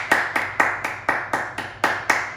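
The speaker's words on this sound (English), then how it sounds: "Now, go ahead and let's clap at mezzo forte." Hands clap at a moderate mezzo forte level, eight or nine crisp, evenly spaced claps in a steady rhythm, close and clear with no talking.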